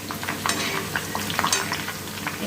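Herbs frying in coconut oil, a steady crackling sizzle close by with small pops and occasional stirring clinks, no voices.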